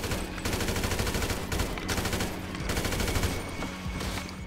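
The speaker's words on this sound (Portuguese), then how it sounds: "eu tô levando tiro, eu vou levar tiro aqui" Gunfire in the video game GTA V, a dense, continuous fusillade of rapid automatic shots that stays loud and steady throughout.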